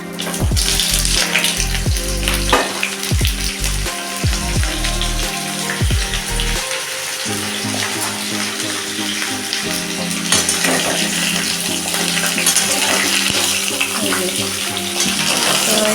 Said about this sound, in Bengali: এবার আমগুলোকে আমি এই তেলে দিয়ে দিচ্ছি